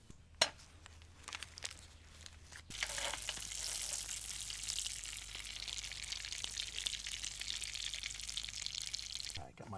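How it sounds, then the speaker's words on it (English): Garlic butter for a burger bun starts sizzling in a hot pan partway through, a bright, crackling hiss that stays steady and close, preceded by quieter clatter and handling noises. "I'm gonna cook my garlic butter for my bun with this."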